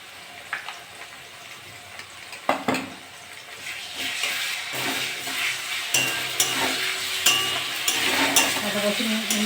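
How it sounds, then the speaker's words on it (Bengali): Potatoes fry with ginger garlic paste in a pan, a continuous soft sizzle broken by scraping stirs and sharp clinks of a utensil against the pan at irregular intervals. "আদা রসুন একটু ভাজা ভাজা করে নেব"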